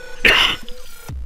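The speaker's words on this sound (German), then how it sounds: "Nochmal ein Hust." A single loud, close human cough, short and harsh, followed by a brief quiet tail.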